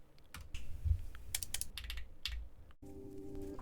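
Typing on a completed custom mechanical keyboard, with a quick irregular flurry of close keystrokes that stops briefly before a faint tonal hum takes over.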